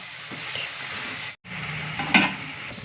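Gongura leaves cooking in oil in a pan for Andhra-style gongura prawns, a close, continuous sizzle broken by a brief cut, with a sharper scrape and crackle of stirring toward the end and no talking.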